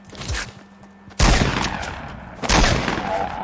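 Rapid automatic gunfire from a minigun in a PS4 shooter comes in two dense, loud sustained bursts after a brief quieter burst, each a continuous roar of overlapping shots.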